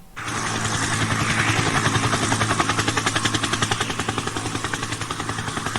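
Helicopter footage with a rapid, steady rotor chop that beats rhythmically throughout, loud and close, with no one speaking.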